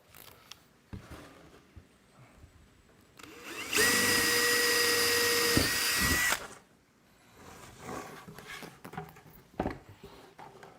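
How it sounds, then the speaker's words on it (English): An electric drill whirs at high speed for a few seconds, drilling start holes for a jigsaw, surrounded by quieter shuffling and handling noises before and after. "I'm just gonna drill a couple of holes, start-stop holes for the jigsaw"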